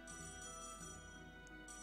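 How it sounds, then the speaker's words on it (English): A ringing phone from the Batcave in the Trails in the Sky video game, a steady electronic ringtone that repeats in a few short pulses over the game's constant backing audio. "Oh shit, the Batcave phone."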